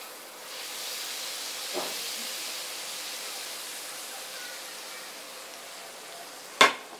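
Hot chili oil poured over boiled fish, giving a steady, bright sizzling hiss that swells and lingers for several seconds, ending with a sharp clink near the end.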